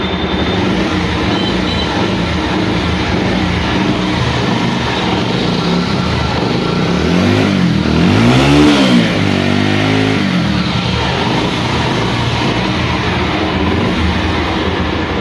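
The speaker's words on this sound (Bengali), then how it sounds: "গাড়ির সাউন্ড অনেক সুন্দর" A Bajaj Pulsar 150 motorcycle with a single front disc and an engine kit runs close by, a loud steady engine drone that swells in a brief rev near the middle before settling back to idle.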